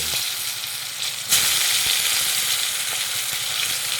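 Tomato, salt and turmeric fry loudly in hot oil for a vegetarian potato curry, a steady dense sizzle that jumps louder partway through and holds without speech.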